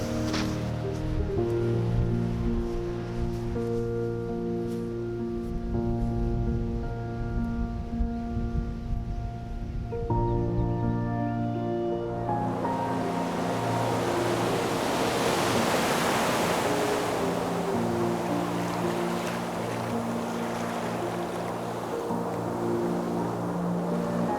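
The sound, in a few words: ocean waves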